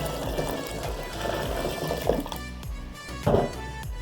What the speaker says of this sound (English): Then goes hot water.